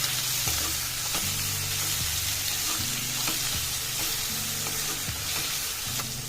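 Chopped tomatoes sizzle in a hot pan while methi dal is being made, giving a loud, steady frying hiss with occasional stirring clatter.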